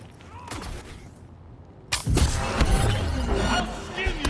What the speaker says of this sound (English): Johnny's main weapon would be his Malorian pistol